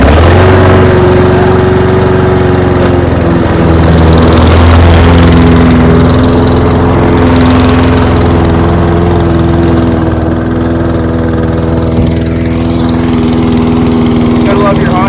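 A Honda lawn mower engine set on choke runs steadily and loudly close by, a constant droning hum for the whole stretch with no pauses.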